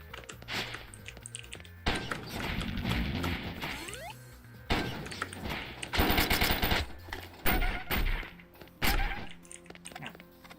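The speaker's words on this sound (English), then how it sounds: "See, buy the SMG upgrade." Rapid SMG bursts from a video game, firing in several separate volleys with short gaps between them, loud and alone with no talking over them.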